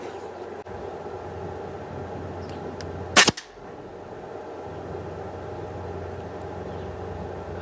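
An air rifle fires a single JSB Exact 4.5mm diabolo pellet of 8.44 grains at a 30-metre target, giving one sharp crack midway through, over a steady low outdoor hum.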